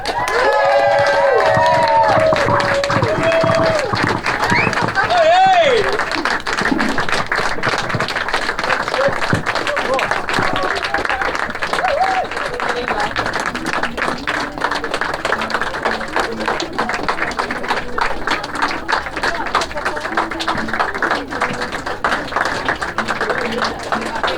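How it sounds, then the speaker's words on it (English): Wedding guests give the newlyweds a long, loud round of applause with cheers and whoops, dense clapping sustained across the room, and voices call out over it near the start. "Please join me in a huge round of applause and welcoming the new Mr. and Mrs. Bevan."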